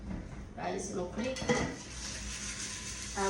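A rice cooking pot is washed by hand, with close, loud clanks and scrapes of metal cookware and utensils in short irregular bursts over running background noise.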